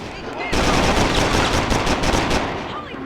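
Rapid gunfire bursts at a target shooting booth in the Driver: Parallel Lines video game, loud repeated shots starting abruptly and continuing in a dense volley before easing off.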